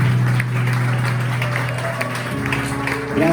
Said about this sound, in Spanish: Terminemos dándole un fuerte aplauso a nuestro Señor